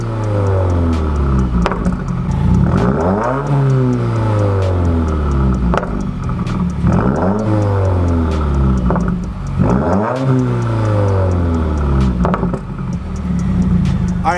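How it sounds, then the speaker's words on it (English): Loud, close revving from a 2016 Subaru WRX with Nameless muffler deletes, the engine climbing and falling in repeated throttle blips that sweep up and back down, with a raspy exhaust note throughout and no talking. "I've got the Nameless muffler deletes."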